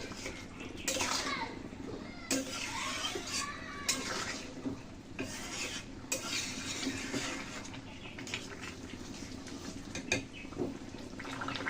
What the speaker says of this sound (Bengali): ভালো করে মিশিয়ে নিচ্ছি সব কিছু দিয়ে